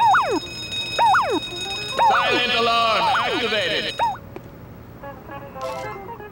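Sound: silent alarm sound in The Simpsons: Hit & Run video game

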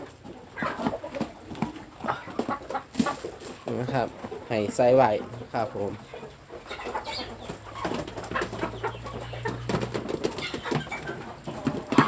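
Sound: red jungle fowl breeder chickens clucking

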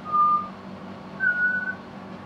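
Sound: butcherbird song

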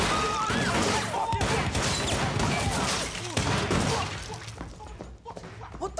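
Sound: gunfire in the TV show Supacell

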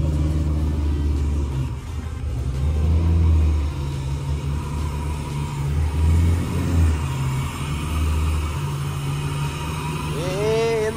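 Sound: BMW engine revving with new stainless steel exhaust

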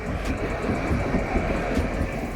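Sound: Bombardier tram, line 8, passing in Kraków

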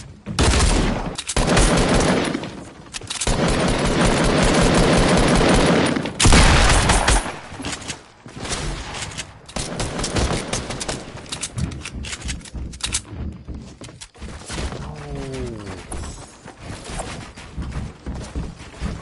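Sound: gunfire in video game Fortnite Battle Royale

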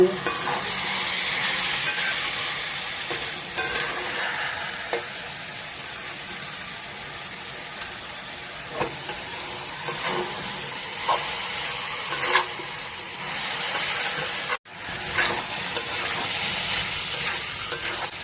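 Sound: potato and cabbage being stir-fried in a pan

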